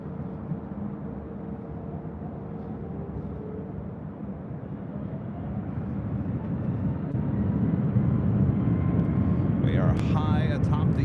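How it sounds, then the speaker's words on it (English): An airliner takes off from runway 24 left at LAX, a broad jet roar heard from a hotel rooftop that swells steadily louder as the aircraft accelerates, with a voice talking over it. "Runway 24 left, clear for takeoff."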